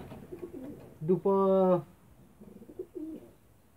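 Ornamental pigeons in a breeding loft giving soft, close coos, with one longer, louder rolling coo in the middle, while someone speaks quietly around the calls.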